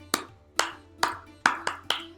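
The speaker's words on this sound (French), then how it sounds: "Ou vous applaudissez tout simplement" Bare hands clap a slow, steady rhythm, five crisp separate claps spaced about half a second apart, close and fairly quiet in an otherwise still room.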